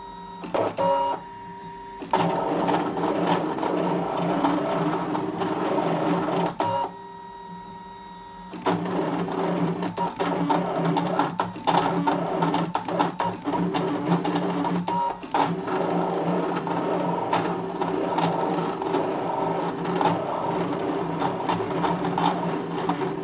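A Brother ScanNCut machine cuts flex vinyl, whirring and buzzing in stop-start bursts as its carriage moves, with short pauses and clicks between passes, close and continuous.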